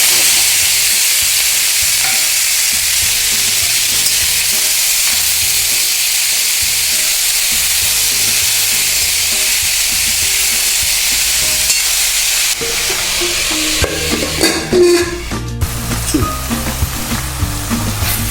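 Ground masala paste and tomatoes sizzle in an iron pan on a stove, a steady loud frying hiss that shifts partway through into busier crackling with clattering stirs and scrapes.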